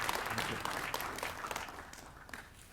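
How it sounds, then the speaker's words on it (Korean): Audience applause welcoming speaker David Clark at a North Korean Human Rights Week event, a steady wash of many hands clapping at moderate distance that gradually thins and fades out. "박수로 맞이하여 주시겠습니다."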